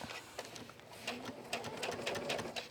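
A sewing machine stitches a steampunk hand accessory toward the thumb hole, a quiet close run of quick clicking needle strokes in short bursts.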